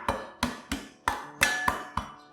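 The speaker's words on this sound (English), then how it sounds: "Pat down the white parts to help it release its flavour." White parts of green onions smashed flat with a blade or cleaver on a cutting board, seven firm thumps in an even rhythm, close and fairly loud with nothing else heard.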